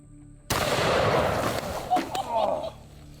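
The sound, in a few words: the world's biggest gun firing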